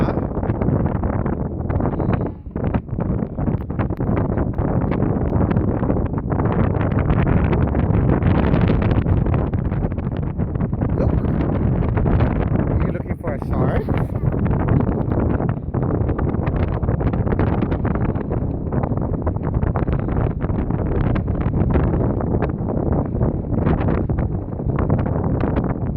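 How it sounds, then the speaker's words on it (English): Strong wind buffets the microphone on a harbor boat ride near a seaport, a constant loud roar with gusty surges and no talk. "It's windy here, huh?"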